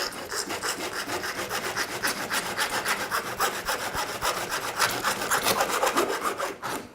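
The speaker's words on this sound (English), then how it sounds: "So kind of work your saw in there, get it in there just like that." A small hand saw works steadily back and forth, cutting a lens to fit an eyeglass frame, making a dense, close rasping rhythm that runs without pause.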